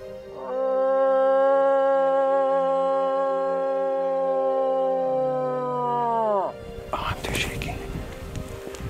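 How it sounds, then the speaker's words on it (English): A loon's long, rising and sustained wailing call, steady for several seconds before sliding down at the end, followed by rustling outdoor noise. "You can hear the loon calling"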